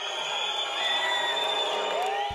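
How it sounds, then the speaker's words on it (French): Crowd in a Radio France meeting room jeering and whistling loudly as Mathieu Gallet leaves, a dense continuous din with sustained whistle tones rising over a steady roar. "Mathieu Gallet, lui, quitte la salle sous les sifflets"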